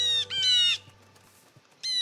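Harmonic bird calls from the Naturalist mod in Minecraft, a video game: two rising, wavering calls in close succession, then a pause and a third call starting, loud and clear over a low steady hum.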